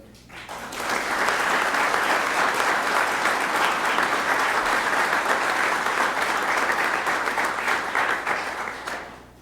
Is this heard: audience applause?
yes